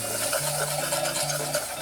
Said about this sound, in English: I'm gonna whisk it in as I add it.